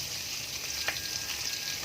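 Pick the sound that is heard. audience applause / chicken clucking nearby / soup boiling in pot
soup boiling in pot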